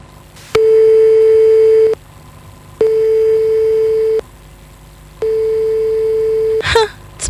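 A telephone call goes unanswered, with three long, steady electronic ringing tones separated by pauses, loud and close, followed by a brief rustle at the end.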